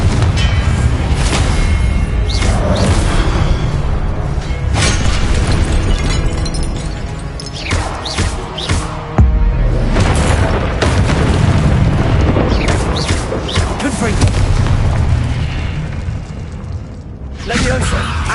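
Booming Confringo explosion spells go off one after another in the Hogwarts Legacy video game, forming a loud, dense barrage mixed with cracks and pops, with a voice speaking over the blasts.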